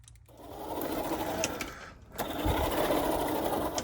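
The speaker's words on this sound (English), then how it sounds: "a brushless motor from just after the Second World War" A brushless motor in a rare 1949 two-rail model locomotive runs with a steady, close mechanical whir and buzz. It dips briefly near the middle, then resumes and holds a loud, even drone.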